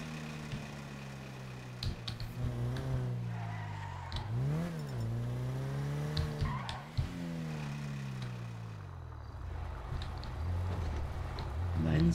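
In the video game GTA FiveM, a car engine hums steadily and rises and falls in pitch through several revs, with faint tire noise over about twelve seconds. A person speaks over it.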